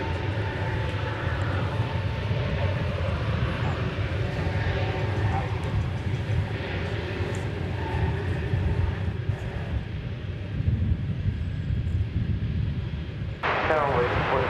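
A jet airliner takes off from runway 18 left at DFW Airport in Texas, a steady loud engine roar sustained throughout with broadband rumble, while a voice talks over it.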